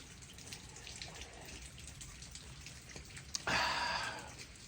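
Rain drips and patters at a rocky cave campsite 4800 feet above Las Vegas on a cold, wet morning, a faint steady spatter that swells into a louder splashing burst near the end, with no voices.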